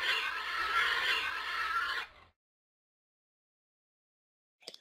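A pig squeals in one loud, harsh burst lasting about two seconds, followed by silence and a brief faint chirp near the end.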